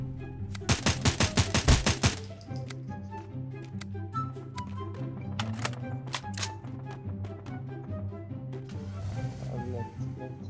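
An M4A1 assault rifle fires full-auto in the game Knives Out, one loud rapid burst of about ten shots early on, followed by scattered softer shots and clicks over background game music.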